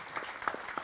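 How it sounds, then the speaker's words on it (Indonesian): Applause at a press conference, a short burst of scattered hand claps from a small crowd, moderately loud with uneven rhythm. "boleh minta tepuk tangan yang meriah"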